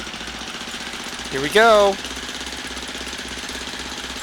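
Simulated Wright Flyer engine in X-Plane, a steady low rhythmic putter running throughout, with a brief spoken exclamation over it partway through.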